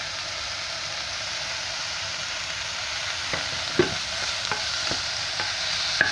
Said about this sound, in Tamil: இதை வதக்கிக்கலாம். இந்த தக்காளியும் இது போட்டுடலாம்.